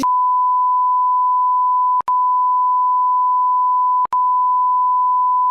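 A human voice imitates steady electronic beeping, holding a single pure tone in long sustained notes broken by two brief gaps, loud and clean with nothing else around it.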